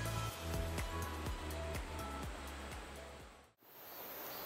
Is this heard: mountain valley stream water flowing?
yes